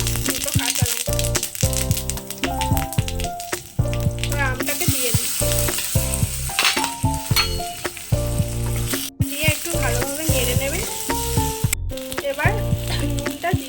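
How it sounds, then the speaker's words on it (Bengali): Pieces of shol fish fry with mustard seeds in a hot pan, giving a loud, steady sizzle laced with sharp rattles and spoon-stirring clatters, interrupted by short pauses and bursts of crackling throughout. "এখন ভাজা চলছে"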